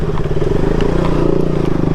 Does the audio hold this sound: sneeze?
no